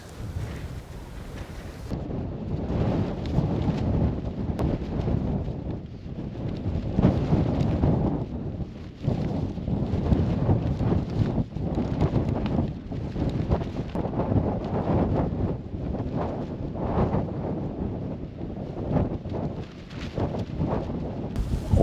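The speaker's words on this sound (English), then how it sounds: "Yeah, it's pretty windy." Strong wind gusting across an open tor campsite on Dartmoor's Kings Tor, a continuous loud roaring buffet of the microphone with surging gusts and no voices.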